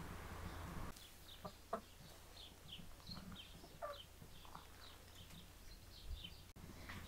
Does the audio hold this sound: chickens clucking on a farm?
yes